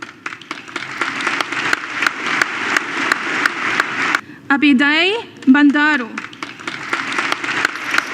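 Applause at a graduation ceremony in Canada: steady, dense clapping from an audience that runs across the whole stretch, broken midway by a brief loud tonal passage, with a voice speaking over it.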